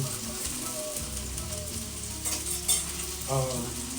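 Onions and peppers frying in a pan on the fire for Haitian paella, a soft, steady sizzle close by with a few stirring clinks and scrapes, no talking.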